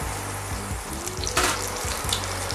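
Stuffed beef bavette with shallots searing in a hot frying pan, a steady close sizzle and crackle with faint scraping from stirring throughout.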